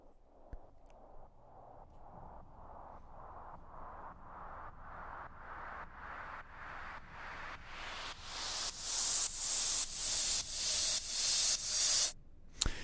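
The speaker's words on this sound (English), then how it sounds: "So it's kind of like a sidechain white noise sweep type riser." A sidechain white noise sweep riser sample from an Indian-flavoured sound library, with rhythmic pumping bursts of hiss that rise steadily in pitch and grow louder over about twelve seconds, then cut off abruptly.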